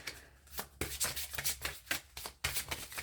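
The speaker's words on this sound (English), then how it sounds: "Give me a second to actually shuffle the deck" An oracle card deck being shuffled by hand, with repeated crisp papery riffles and rustling bursts in an irregular rhythm, close and fairly quiet, with no talking.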